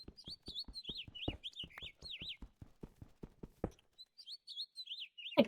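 A bird chirps in modded Minecraft, a rapid run of warbling tweets over steady footstep-like taps, then a pause and another burst of chirps.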